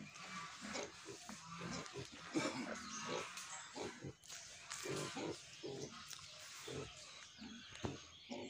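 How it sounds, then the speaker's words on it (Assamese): Pigs grunt and squeal continuously in a pen on a newly started pig farm in Assam. The dense, overlapping snorts and oinks come from several animals at close range. "আৰু গঁৰালটো, গাহৰি গঁৰালটো আপোনালোকে এবাৰ চাই লওক।"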